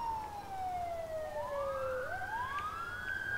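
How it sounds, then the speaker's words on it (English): A Federal Signal Touchmaster police siren wails nearby, its tone falling slowly and then rising again in a smooth sweep, steady and loud over faint background noise. "We have indeed the new siren, which is the Federal Signal Touchmaster"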